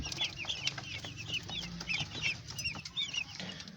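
A flock of chickens, mostly hens with a couple of roosters, cluck steadily in a crowded coop, with many overlapping soft clucks under a constant low background hum.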